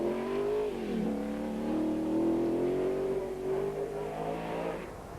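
A TVR Tuscan race car at a 1994 track race holds a steady, loud engine drone, the pitch dipping briefly then climbing through a long pull before easing off near the end, heard from fairly close.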